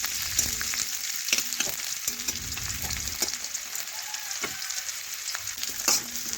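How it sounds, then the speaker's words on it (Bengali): Chopped onions fry in a pan after whole spice tempering, producing a close, continuous sizzle broken by regular scraping strokes and clinks of a spoon as they are stirred, with no talking. "এখন পেঁয়াজ নাড়াচাড়া করে একটু ভেজে নেব।"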